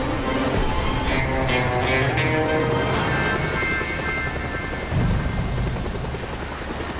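Helicopter in the Just Cause 2 video game, a loud steady rotor and engine roar held for the whole stretch, with a low boom-like thump partway through and no talking.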